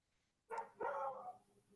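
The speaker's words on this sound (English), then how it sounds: "Whose dog is that?" A dog gives a single short bark, a quick woof that cuts through a quiet background and fades out within a second.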